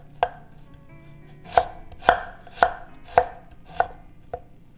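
A knife chops through a half thumb of peeled ginger on a cutting board: one sharp chop, a pause, then five evenly spaced crisp strikes and a softer last one, close and clear with no talking.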